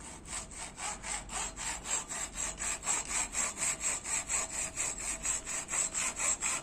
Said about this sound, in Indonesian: Ini kita potongnya pakai gergaji besi.